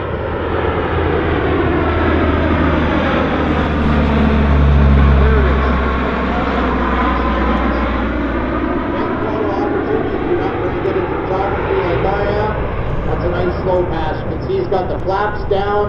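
A CP140 Aurora four-engine turboprop patrol aircraft makes a slow airshow pass with gear and flaps down, its loud steady propeller drone swelling and then easing away over about sixteen seconds, with no voices.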